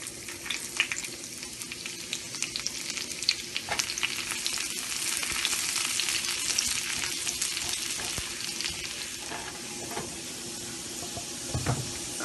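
Finely chopped garlic frying in a tablespoon of oil, a continuous close sizzle and crackle with occasional stirring scrapes, alone without talk.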